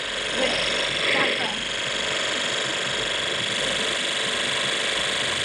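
A motorbike engine in the Cafe Racer video game drones steadily and continuously at an even level, with no distinct revs or breaks.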